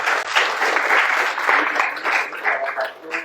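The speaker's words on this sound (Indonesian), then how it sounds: "Tepuk tangan dulu buat karya ini." An audience at a creative talk applauds a T-shirt design, bright close clapping that swells and dips in waves for a few seconds without talk.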